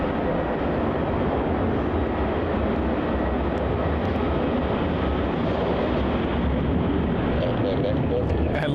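An Air New Zealand airliner departing Melbourne Airport roars as a loud, continuous broadband jet rumble that holds steady for the whole stretch, with faint talk mixed in beneath the engine noise.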